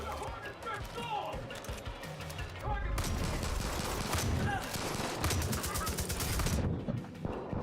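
Gunfire in the Far Cry shooter game, scattered single shots at first, then sustained heavy automatic fire with occasional louder blasts, while players talk throughout.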